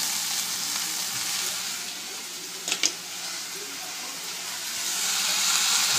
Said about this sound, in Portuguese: enquanto a cebola e os temperos refogam